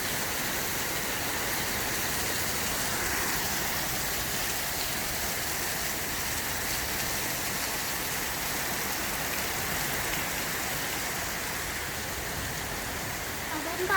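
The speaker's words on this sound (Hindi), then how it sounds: "ये देखो कितनी बारिश हो रही है यहाँ पे, बहुत ज़्यादा।" Heavy rain pours down steadily at a house, a dense continuous hiss and splatter of water on surfaces that stays loud and unbroken throughout.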